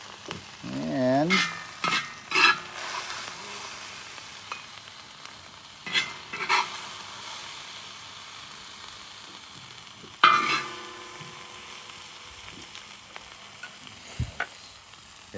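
Shrimp fried rice with sesame stir-fried in a hot wok sizzles steadily while a utensil scrapes and clanks against the pan in irregular bursts, close up and without speech.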